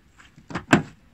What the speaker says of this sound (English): is going to pull the door handle